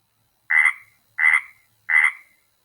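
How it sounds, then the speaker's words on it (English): Three loud, raspy frog croaks, evenly spaced about two-thirds of a second apart, clear against silence. "Frog."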